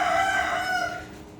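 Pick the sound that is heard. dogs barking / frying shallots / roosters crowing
roosters crowing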